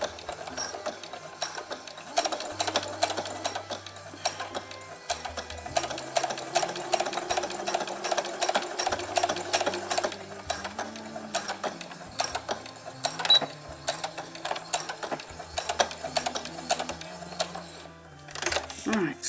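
Sewing machine stitching a bra, running in several loud mechanical bursts with short pauses between runs as the presser foot is lifted, with background hum and some handling noise throughout.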